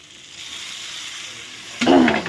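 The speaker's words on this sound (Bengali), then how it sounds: "দেখো বেগুনটা কত সুন্দর করে ভেজে" Eggplant fries in a pan as a soft continuous sizzle, followed near the end by a louder burst of frying hiss and clatter as something is stirred or added.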